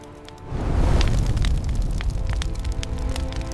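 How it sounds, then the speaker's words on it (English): Flames bursting up in a campfire by a stream: a sudden rush and roar after a quiet half second, then steady crackling with sharp pops throughout. "In just a moment, the flames erupted."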